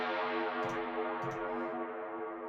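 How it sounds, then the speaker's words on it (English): A filtered synth atmosphere for a 138 BPM trance track, with reverb and effects: a sustained, harmonically rich pad drone that fades slightly, with faint swelling textures and no voices. "then I've also added this kind of little atmosphere."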